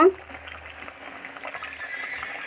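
Egg curry made with raw tomato simmers in a pan with a soft, steady bubbling and hiss, close and continuous for a moment, with a clatter at the start.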